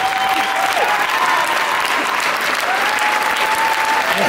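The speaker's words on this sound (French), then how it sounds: "On applaudit encore très fort Fabien" A concert audience on the Vittel Rio Tour gives loud, sustained applause, a dense, even roar of many hands clapping across a large venue, with a faint whistle and crowd noise on top.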